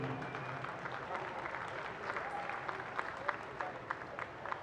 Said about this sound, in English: please join me in giving a big round of applause to our competitor on the home straight